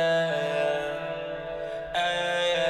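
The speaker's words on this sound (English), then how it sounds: "And some vocal echoes that I recorded, and some chorus on it," Layered, recorded vocal echoes treated with chorus form a sustained, shimmering harmonic texture that dips and then swells back in partway through.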